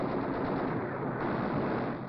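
Enemy gunfire in a South Pacific jungle battle, heard as a dense, steady roar of rapid shots with little variation, sounding like old archival battle audio.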